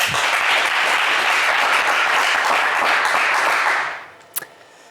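A studio audience on a TV game show breaks into brisk, dense applause that holds steady for several seconds, then cuts off abruptly, followed by a single sharp click.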